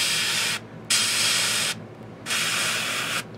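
An airbrush sprays paint onto a Reaper hill giant miniature in three bursts, each a steady broad hiss starting and stopping abruptly, close and alone.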